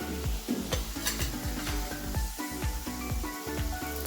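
Masala with ginger-garlic paste, green chilies and curry leaves being sautéed, a continuous sizzle under quick repeated stirring strokes and spatula scrapes against the pan.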